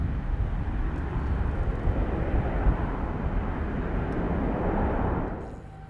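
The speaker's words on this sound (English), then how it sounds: "Boeing 787 Dreamliner, and that's Amsterdam to San Francisco." A United Airlines Boeing 787 Dreamliner departs Amsterdam Schiphol bound for San Francisco, its engines a steady, loud broadband roar that fades slightly at the end.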